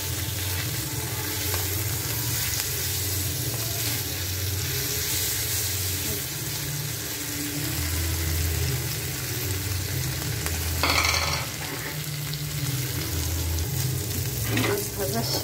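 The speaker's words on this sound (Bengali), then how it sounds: "মাছ ভাজা শেষ, নামাই রাখি।" Punti fish shallow-frying in hot oil in a pan, a steady close sizzle with occasional stirring and scraping, running continuously without talk.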